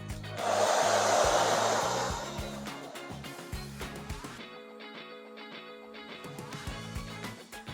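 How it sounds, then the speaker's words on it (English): A hair dryer blows steadily on a hair topper, loud and close for the first few seconds, then continuing more quietly with music playing underneath. "I will hold my hand under the base like this and blow dry in a circular motion"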